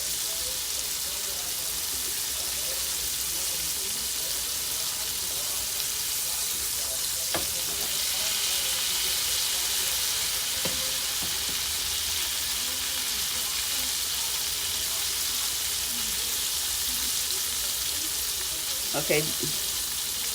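Liver fries in a pan on a stovetop burner at a medium setting, giving a steady, close hiss and sizzle that runs unbroken, with a few faint clinks and one brief spoken word.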